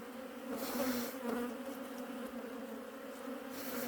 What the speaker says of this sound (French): On a quand même une belle population, des abeilles assez